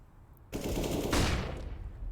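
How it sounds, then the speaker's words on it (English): Mag-7 shotgun fire during a competitive esports match of a first-person shooter, a loud burst of gunfire starting abruptly and sustained for over a second, then trailing into in-game ambience. "Trying to snipe with this Mag 7."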